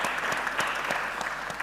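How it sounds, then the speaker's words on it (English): An audience at a World Café design-thinking workshop in Africa claps in a dense, steady round of applause, sustained and fairly near, with no clear voices. "Please give yourselves a round of applause."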